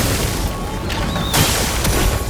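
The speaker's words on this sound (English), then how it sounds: "Then sack of attack explosion." The Sack of Attack explosion skill goes off in Clair Obscur: Expedition 33, a dense burst of booming, crackling blasts that fills the moment with loud, broadband impact noise and quick follow-up cracks.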